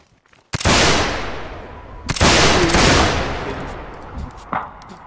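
Two loud volleys of massed musket gunfire ring out in a North and South Civil War game battle, each with a long echoing decay, followed by a fainter single shot near the end.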